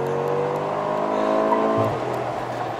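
A 2025 Mercedes G63 AMG with 585 hp and 850 Nm accelerates hard from a standstill, its engine roaring loudly and rising in pitch while the tyres scrabble for grip, then the note drops as it shifts.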